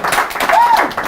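A studio audience at a televised talk show with pageant winners breaks into a short, steady burst of clapping and cheering, a dense close wash of applause lasting about a second.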